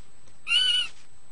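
A barn owl lets out a single short, harsh screech at night, clear and fairly close, against an otherwise quiet background.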